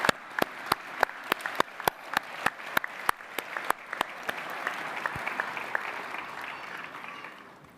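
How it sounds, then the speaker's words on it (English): Audience at a Salford Business School graduation ceremony claps, starting with a few sharp, evenly spaced hand claps that blend into a fuller wash of applause before fading out. "Now please give a round of applause to all those people here and elsewhere who have helped, inspired and encouraged you throughout your journey"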